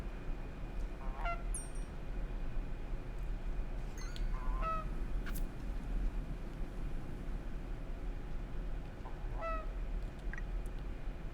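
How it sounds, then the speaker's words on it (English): Geese in the video game Knights and Bikes honking in several short bursts over a constant low ambient hum, calls spaced a few seconds apart and moderately near. "Feed the geese."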